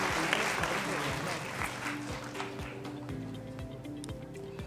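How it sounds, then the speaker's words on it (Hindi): Audience applause welcoming a government department secretary at an official ceremony, moderate clapping over a low rhythmic background hum with speech-like sounds mixed in. "तालियों के साथ स्वागत करेंगे।"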